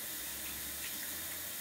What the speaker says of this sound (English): let me wash my hands for that